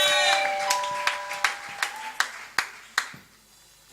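Rhythmic hand clapping from a church congregation praising the Lord, about eight sharp claps at a steady beat with roomy reverb, over faint sustained tones and voices early on that fade as the clapping continues.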